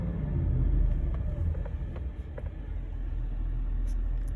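A 2010 Jeep Grand Cherokee 5.7 Hemi revs under throttle blips, a deep rumbling engine tone with a few swells, close and loud throughout.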